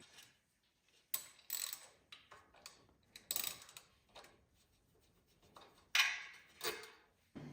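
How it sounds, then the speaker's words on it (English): A 4 mm Allen socket on a ratchet works loose a skid plate bolt on a Ducati DesertX motorcycle, giving quiet bursts of quick ratcheting clicks separated by short pauses and light metallic handling. "you can just remove this bolt using a 4 millimeter Allen socket or Allen key."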